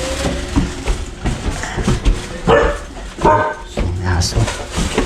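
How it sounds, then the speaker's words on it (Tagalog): A dog barking at a family home, several short barks scattered among steady nearby talk and household noise. "Aso."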